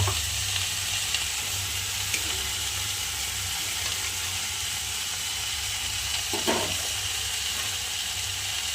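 Spice mix and leafy greens sizzle in a hot pan as a little water is poured in, giving a constant, fairly quiet hiss with a brief splashy burst near the end.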